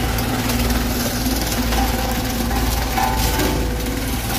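A heavy machine grinds up crypto mining PCs, giving a loud, continuous low rumble and mechanical drone with steady grinding texture throughout and no clear talk.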